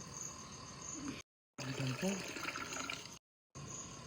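Water splashing and trickling into an earthenware clay pot for black tea, brief close pours broken by short gaps, with talking alongside.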